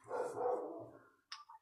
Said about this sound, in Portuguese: Esse cachorro, ok.